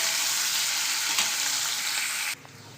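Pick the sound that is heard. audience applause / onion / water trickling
onion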